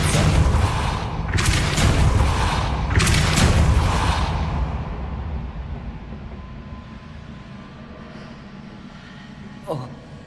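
The Depulso spell is cast in Hogwarts Legacy, a forceful whooshing boom followed by a rumbling push that fades away, with a second burst close behind and a brief clank near the end, with speech mixed in.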